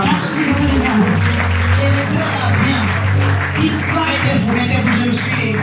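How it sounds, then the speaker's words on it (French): A church seminar audience applauds for the king, a dense, steady wash of clapping lasting throughout, with a low sustained musical drone and some voices beneath it. "Acclamons pour le roi."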